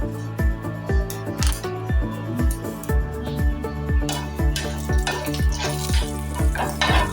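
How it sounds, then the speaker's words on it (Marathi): Cumin seeds sizzling in leftover oil from frying paneer, a steady bright crackle under repeated metallic spoon scrapes and clinks against the pan, with background music running throughout. "आपण थोडं जिरं घालूया"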